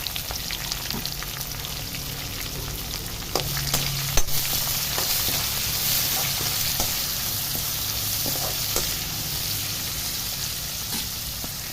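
Onion pieces sizzle and fry in hot oil with cumin, curry leaves and peanuts for a bitter gourd curry, a steady crackling hiss running throughout, close and alone, with a few sharp stirring taps.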